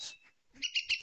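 Short, high-pitched chirps repeat in a quick series, close and fairly clear, like a small young bird calling.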